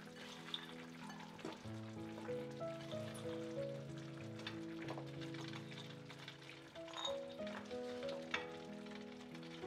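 Mixed vegetables hit a hot frying pan just after the alcohol has cooked off, giving a soft, steady sizzle and crackle close by, fairly quiet, with faint steady tones lingering beneath.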